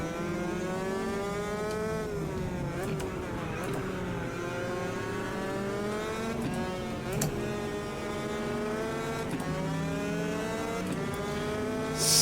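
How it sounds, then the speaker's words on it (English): Engine of a Mercedes AMG GT3 race car in the Automobilista 2 racing game, a loud raspy roar rising and falling through repeated gear shifts and revving, heard close up and continuous, with occasional talking over it. "Sat on the tail of this AMG now, I can really hear it."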